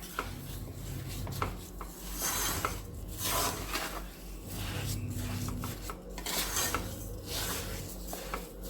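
Raw mango and sugar are mixed in a pan over an unlit flame, giving a continuous rubbing, grainy scrape with rhythmic strokes of the spoon, close and moderately loud, with no voices.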